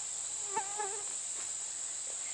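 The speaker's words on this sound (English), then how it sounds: "You hear those katydids? Sound of summer." A steady high-pitched drone of katydids calling on a summer day in a perennial cottage garden fills the background, constant and fairly faint, with a few soft chirps near the start.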